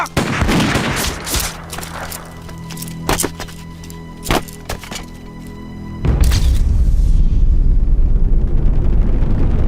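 Rifles fire at a public execution in a Chinese anti-Japanese war film. Several sharp, loud shots crack in quick succession, then a heavy rumbling roar sustains to the end.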